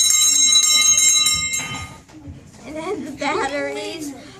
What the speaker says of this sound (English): Ring the bell again.